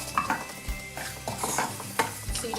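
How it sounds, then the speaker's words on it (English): Onion sizzles and crackles in hot oil, with a spoon stirring and scraping the pan now and then, close by. "There we go, sizzling."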